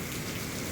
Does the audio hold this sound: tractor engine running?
no